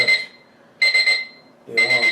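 Shrill electronic beeping from a digital alarm clock repeats in three close, loud clusters of rapid pips separated by short silences.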